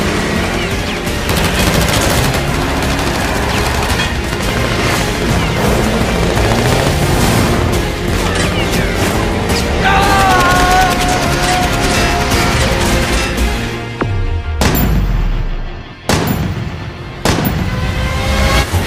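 Gunfire in the battle-royale mobile game PUBG Mobile: dense, continuous bursts of automatic shots and booms fill the mix loudly, with a couple of brief drops near the end before the firing resumes.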